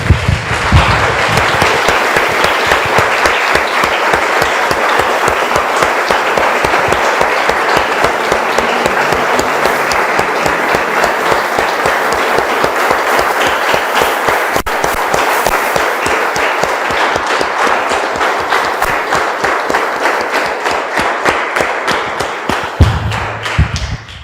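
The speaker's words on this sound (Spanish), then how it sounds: "Damos un aplauso, hermanos, al Señor." A church congregation applauds and claps together for a long, steady stretch, loud and close throughout with no speech over it, fading out only at the very end.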